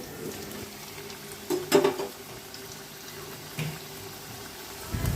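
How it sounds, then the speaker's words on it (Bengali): Potatoes frying in hot oil in a wok give a steady, low sizzle throughout, with a few brief utensil clanks partway through and near the end. "ফার্স্টে আমি আলুগুলোকে ভেজে নেব।"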